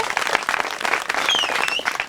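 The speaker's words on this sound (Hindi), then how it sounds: "तालियां बजा दीजिए हमारी बहनों के लिए।" An audience claps for four community health worker sisters (mitanin) called forward at a village gathering, steady dense applause filling the moment, with a faint voice or whistle-like tone rising briefly midway.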